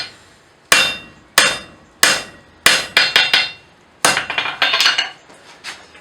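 A blacksmith hammers a 1 inch round bar on its second heat, giving sharp ringing strikes in an uneven rhythm, single blows at first and then quick clustered bursts, loud and close with no talk.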